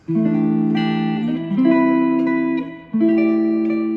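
A rich sustained chord rings out, then shifts and is struck again twice, three clear voicings of a major 6/9 chord played cleanly with no voice over them.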